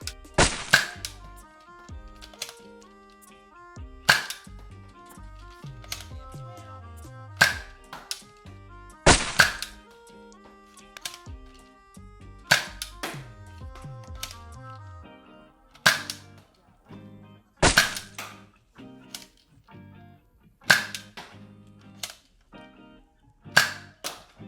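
A Zuru X Shot Kickback toy pistol fires foam darts in a series of sharp, snappy cracks spaced a few seconds apart, each with a brief mechanical clatter between shots, and no voices.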